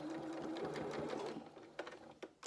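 A sewing machine stitches fabric in a steady whirring run, then slows into a few short separate bursts as it reverses at the end of the seam.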